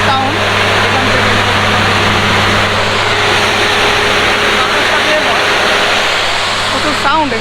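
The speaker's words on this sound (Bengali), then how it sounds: "এই হচ্ছে ট্রেনের ইঞ্জিন, যেটা দিয়ে ট্রেন চলাচল করে।" A Mohanganj Express train engine runs loud and steady up close, a constant heavy low drone with a broad roaring wash over it, unbroken for the whole stretch.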